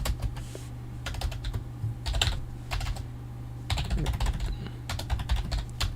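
Rapid typing on a computer keyboard during a programming session, bursts of quick clicking keystrokes with brief pauses between them, close and fairly clear with no talking over it.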